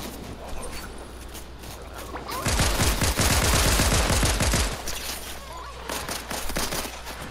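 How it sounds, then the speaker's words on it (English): A rapid burst of automatic gunfire in the Fortnite video game, a dense rattling volley lasting about two seconds, set against quieter game ambience. "Someone's shooting me."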